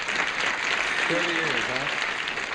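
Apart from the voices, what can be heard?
studio audience applause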